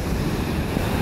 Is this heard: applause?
no